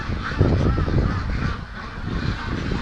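Brant geese honking in a loose chorus of overlapping calls, fairly close and steady, with no talking over them.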